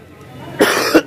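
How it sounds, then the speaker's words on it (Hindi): A person coughs twice in quick succession, loud and close, after a quiet stretch, triggered by the stench of dirty, stagnant water. "पानी की इतनी बदबू है कि खांसी आ गई"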